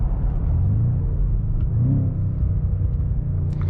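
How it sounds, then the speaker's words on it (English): A BMW M5 exhaust rumbling with a deep, continuous low thunder as the car downshifts, heard close with light burbles and no voices. "So you get this like a thunder if you downshift or the car downshifts from the back"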